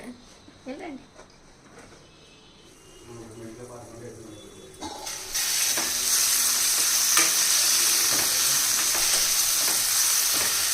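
Tomatoes cooking in a pan, softening before potatoes go in. Quiet clinks and soft voices come first, then a loud steady sizzle rises and continues under occasional stirring.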